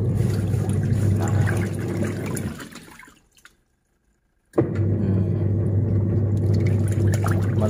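A household washing machine running through its wash cycle, a steady low mechanical hum with sloshing water, fairly loud and close, cutting out briefly to near silence before resuming just as strongly.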